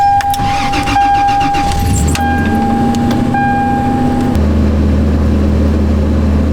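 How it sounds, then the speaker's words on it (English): Toyota Tacoma 4WD truck engine cranks and starts on a cold winter morning at a campsite, then settles into a steady close, loud idle hum; a faint whine runs through the start before the idle lowers. "Let's start this truck up and get things warm."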